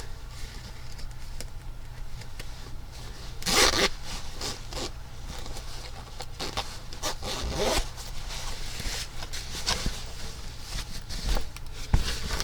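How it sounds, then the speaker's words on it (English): Zipper on a sewn garment, set down the front in place of snaps or buttons, pulled closed in several quick rasping runs against a steady low hum, with no voices. "So it just zips up."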